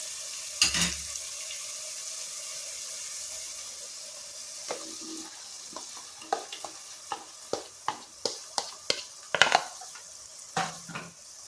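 Palak paste frying in a pan as it is stirred, a soft sizzle under a series of distinct spoon scrapes and clinks against the pan, spaced fairly regularly in the second half.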